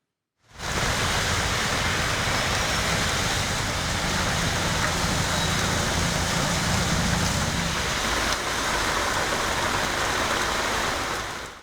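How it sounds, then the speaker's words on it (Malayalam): Heavy summer rain at night as a dense, even roar of noise that starts abruptly and holds constant throughout, with no voices. "തലസ്ഥാനത്ത് ഇന്നലെ രാത്രി പെയ്ത വേനൽ മഴയിൽ പലയിടത്തും വെള്ളക്കെട്ട് രൂക്ഷമായി"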